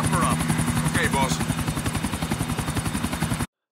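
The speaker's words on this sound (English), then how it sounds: "Go over and meet him where he comes out. Over by where we picked this chopper up." A helicopter in GTA IV: The Ballad of Gay Tony beats steadily with loud, close rotor thumps that hold an even rhythm throughout, then cut off abruptly.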